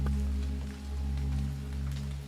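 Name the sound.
rain falling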